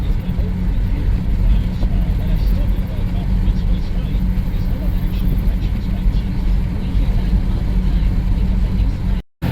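A 1991 Dodge Grand Caravan S with a low-speed stalling fault drives along, its steady engine and road noise droning loud and constant from inside the cabin, with a voice talking over it.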